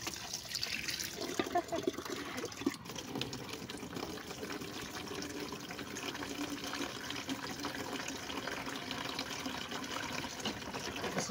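Water runs steadily from a tap in a continuous splashing gush that hardly changes throughout.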